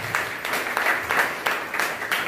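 Enthusiastic audience applause at a network marketing education seminar: loud, dense clapping from many hands that swells in waves and fills the room steadily with no talking.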